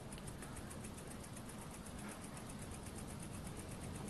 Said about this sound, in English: A steam engine running on a mozzie repellent candle.